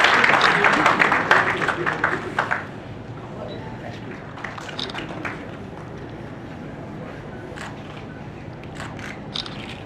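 A hotel conference audience claps loudly for a couple of seconds, then the applause thins to scattered, fainter claps that fade into background murmur.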